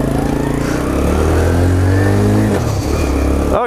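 Engine of an inexpensive Chinese-made motorcycle revving loudly up and down, its pitch climbing then dropping, heard close with no talking as the clutch is slowly let out.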